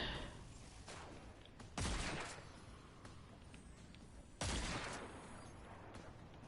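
Wolf repeater gunfire in Destiny 2: Beyond Light, heard as two loud, sharp bursts of gunfire a few seconds apart over a constant low battle rumble.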